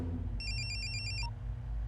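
A mobile phone ringtone chirps in a quick run of bright, repeated electronic tones during a call, moderately loud over a low background rumble, with no speech.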